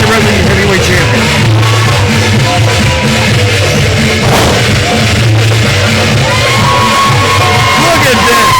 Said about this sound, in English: The crowd is on fire.